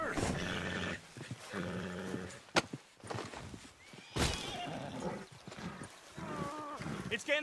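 A horse in Red Dead Redemption 2 whinnies and snorts repeatedly, with hooves clopping and someone speaking over the animal.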